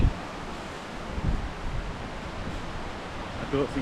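Powerful wind buffets an exposed remote camp in the hills during a storm with rain, a steady broadband roar with gusts swelling and easing throughout.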